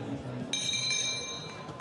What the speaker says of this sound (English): So the bell goes.